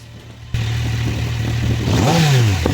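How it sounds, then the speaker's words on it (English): A 2025 Kawasaki Z900 motorcycle with stock exhaust idles steadily, then revs up sharply and settles back down, loud and close with no talking. "That stock exhaust sounds pretty good"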